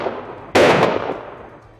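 A single sharp rifle shot cracks out after a quiet lead-in, loud and close, followed by a decaying echo that fades over about a second, used as a sound effect in a narrated story.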